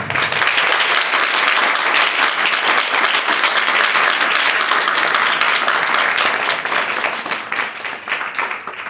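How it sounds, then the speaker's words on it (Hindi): Sustained applause from a classroom audience of students, dense and steady clapping for several seconds before tapering off slightly at the end. "आपके तालियों के साथ"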